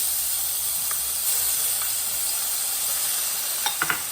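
Steady high hiss of minced garlic sizzling in a hot pan, with a few brief clicks and pops near the end; no voices.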